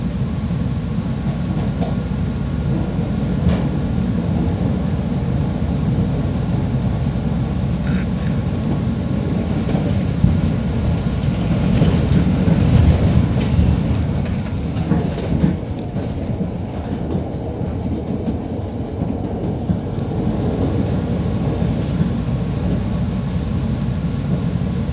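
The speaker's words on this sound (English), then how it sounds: "This is Howard, as far as this train goes." A Chicago elevated train rolls into Howard station with a steady loud rumble and rattling wheels on the track, swelling in the middle as it passes close, then easing off.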